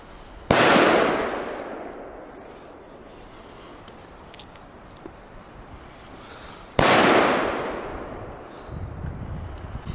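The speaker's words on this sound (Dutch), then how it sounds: "Er stond ook bij deze artikelen de hardste knal van België." Two Megatresk firecrackers, sold as the loudest in Belgium, go off several seconds apart, each an extremely loud sharp blast with a long rolling echo fading outdoors.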